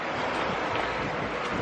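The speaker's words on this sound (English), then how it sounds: "It is 50 and windy." Steady wind blowing outdoors in Charleston on a cold day, a continuous broadband roar of gusts buffeting the microphone with no speech.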